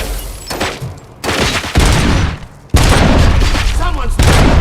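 Heavy gunfire in the shooter game RoboCop: Rogue City: loud, dense bursts of shots crackle and boom almost without pause, building in intensity toward the end, with voices partly mixed in.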